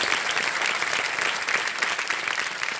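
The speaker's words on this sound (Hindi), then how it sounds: "तालियों के साथ हम चाहेंगे कि इनका स्वागत हो जाए." A studio audience at the Kaun Banega Crorepati quiz show bursts into loud, sustained applause, a thick continuous wash of many clapping hands that stays strong throughout.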